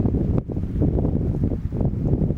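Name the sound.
wind blowing on a beach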